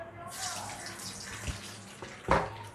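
Oil poured into a hot kadai while cooking Chennai-style fish (shark) puttu gives a steady, close sizzling hiss, ending with a brief sharp clatter.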